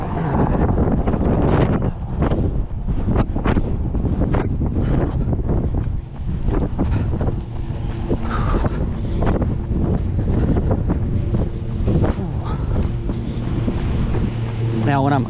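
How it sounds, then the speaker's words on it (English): Strong gusting wind buffets the microphone of a runner heading into a 25 mph headwind with gusts near 37 mph, a loud continuous roar with surging gusts and no talk. "And I am running into the wind"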